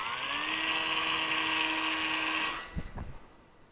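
A Dancing Wings Hobby PITTS 450mm brushless micro biplane gives a high, buzzing electric motor whine that holds steady and loud for a couple of seconds, then cuts off and leaves a few soft thuds and rustles.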